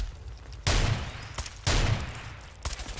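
Two heavy gunshots from a handmade .308 revolver fitted with a suppressor in the Fallout 4 video game, each a loud close blast with a short decaying tail, about a second apart.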